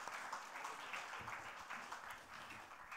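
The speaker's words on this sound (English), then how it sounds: "Can we please have a huge round of applause for Ambassador Syed Akbaruddin?" Conference audience applauding an ambassador after a presentation, a steady wash of many hands clapping that holds evenly throughout without any voices.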